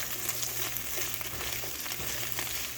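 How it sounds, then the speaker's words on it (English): Green beans frying and being stirred in a pan while almonds wait to be added, giving a steady, close, moderately quiet sizzle with faint scraping, no voices. "we're going to add our green beans to it. Just keep stirring because you don't want it to burn."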